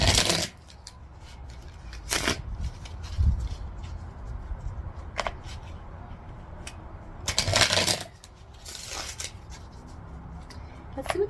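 Tarot cards being shuffled by hand, giving several brief papery riffles and shuffling bursts spread across a quiet room, near and fairly soft.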